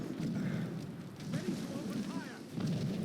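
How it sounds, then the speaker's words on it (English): Naval cannon fire from a ship in the video game Assassin's Creed Rogue rumbles in repeated low booms and rolling roars, with a voice talking over the barrage throughout. "Who the fuck's shooting cannons?"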